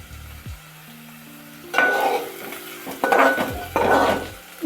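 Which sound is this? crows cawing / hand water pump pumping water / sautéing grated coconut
sautéing grated coconut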